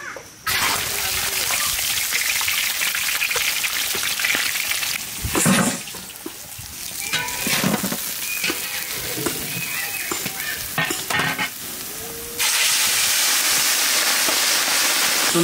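A large pot of chutney bubbles at a boil over an outdoor village cooking fire, giving a continuous loud gurgling and hissing wash with occasional splashes and knocks. People talk intermittently over it.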